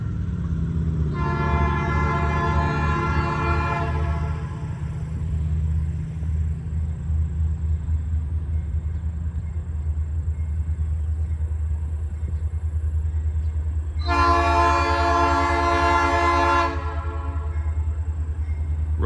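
A freight train struggles slowly on wet rails up a steep grade, a steady heavy rumble of cars passing near a crossing, broken by two long horn blasts at the start and end.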